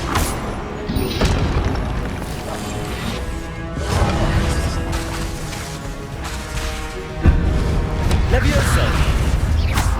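Magical spell explosions from the Confringo fire curse in Hogwarts Legacy, a video game, land as repeated heavy booms and crashes over a dense, continuous action soundtrack.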